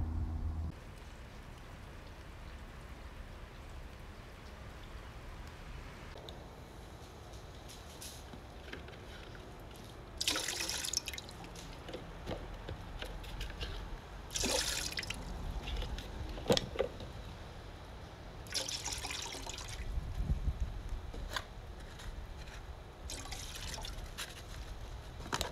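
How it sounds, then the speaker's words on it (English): Rain falls softly outdoors in a garden with tropical plants, a faint steady patter broken by louder bursts of water dripping and splashing at irregular intervals. "Lots of rain."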